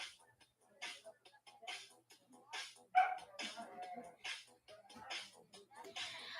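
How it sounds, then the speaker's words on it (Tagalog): A dog barks repeatedly in short, faint bursts at a moderate distance, irregular and scattered, with a voice talking at times in between. "Ingay naman ang aso na to."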